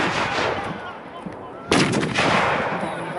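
Battle reenactment at Detling: after a murmur of distant crowd noise, a single loud, sharp gunfire blast cracks out close by and rolls into a rumbling echo, with scattered background sounds continuing.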